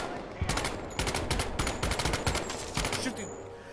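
Rapid automatic gunfire fills a Medal of Honor VR game, with dense close bursts of loud shots in quick succession that run almost continuously for a few seconds.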